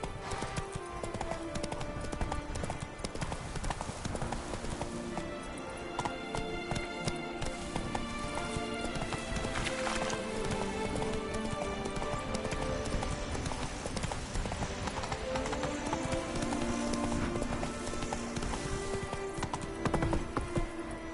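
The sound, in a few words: horse Roach galloping hooves in video game The Witcher 3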